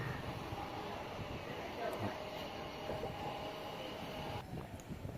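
A train pulling into Renigunta railway junction station, a steady broadband rumble of rolling stock running throughout with faint squeals, heard from on board with a voice talking over it.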